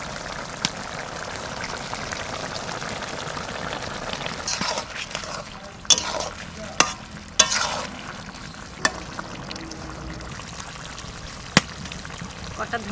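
Spices fry in oil for a koi fish and bottle gourd curry, with a continuous low sizzle, some bubbling and trickling, and scattered sharp clinks of a utensil against the pan.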